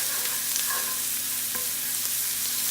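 Prosciutto crisping in a hot pan for chicken saltimbocca, a steady close sizzle of frying with faint stirring scrapes and no talk.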